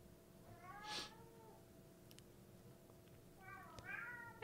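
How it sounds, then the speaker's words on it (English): A cat meows faintly indoors, two separate drawn-out calls about three seconds apart over a steady background hum. "stop meowing"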